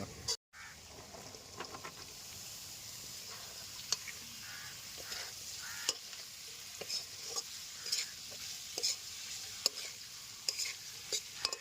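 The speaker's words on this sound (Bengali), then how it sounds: "এবার দিয়ে দেবো ক্যাপসিকাম, গাজর, বিনস, পেঁয়াজ, সব একসঙ্গে ভেজে নেবো" Half-fried potatoes with capsicum, carrot, beans and onion frying together in a pan, a steady low sizzle with repeated close spatula scrapes and stirring clatter throughout.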